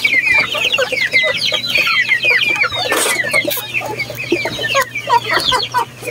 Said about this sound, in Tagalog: Meron pa tayo dong mga alagang manok